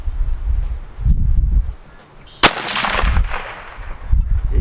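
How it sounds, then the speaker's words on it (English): A single sharp 6.5 Creedmoor rifle shot cracks out midway, loud and close, with a rolling echo trailing behind it over outdoor wind rumble. "See if I can shoot that right one again."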